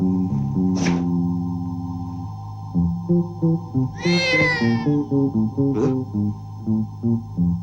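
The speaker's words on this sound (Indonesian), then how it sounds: "Lihat deh, kucing." A cat meows several times, loud and close, in short repeated cries with a longer wavering yowl near the middle, against a steady musical drone and no talking.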